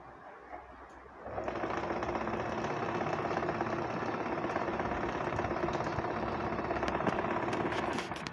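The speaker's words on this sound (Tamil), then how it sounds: "ஃப்ரண்ட் அண்ட் பேக் ஸ்டிச்சஸ் போட்டாச்சு" A sewing machine stitches a panel skirt, starting after a second of quiet handling and then running in one steady close rattling whir to the end.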